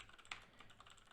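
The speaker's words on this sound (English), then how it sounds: "I'm going to type on the keyboard" Typing on a mechanical keyboard: faint, fairly steady clicking keystrokes heard alone, with one sharper, louder key hit near the start.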